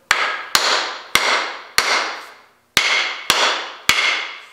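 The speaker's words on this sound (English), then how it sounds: "I'm gonna turn it around and hit it this way, so hopefully I skew it back through the head." Hammer blows driving a wedge into an axe head during a restoration, seven sharp metallic strikes at a steady rhythm, close and loud, each ringing out briefly before the next, with no talking.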